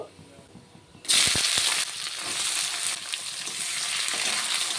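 Chopped onion hits hot oil already seasoned with bay leaf, cumin, cloves, cardamom and cinnamon, bursting into a loud, steady sizzle after a quieter start, with occasional stirring scrapes through the frying hiss.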